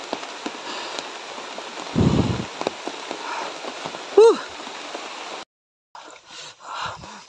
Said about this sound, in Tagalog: Bakit pa kasi umuulan ngayon eh?